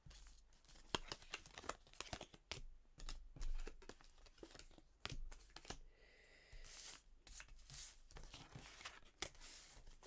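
Tarot cards are shuffled for a reading, with quiet, close riffling and papery flicks in irregular bursts, soft rustles between them and no talking.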